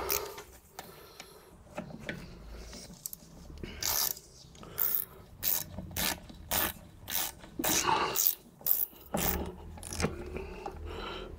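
Rear brake parts on a Fiat Punto are tightened with a ratcheting tool, producing repeated close bursts of mechanical clicking in an uneven rhythm, with short pauses between strokes and no talking.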